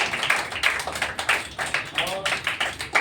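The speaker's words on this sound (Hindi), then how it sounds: "बच्चे को जोरदार ताली स्वागत करते हैं" Children greet a visiting guest with a round of clapping, a steady stream of fairly close, quick claps with voices audible underneath.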